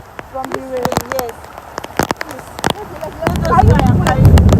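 Rain starts falling on a mountain, first as scattered sharp drops and then as a denser, steady patter, with voices in the background.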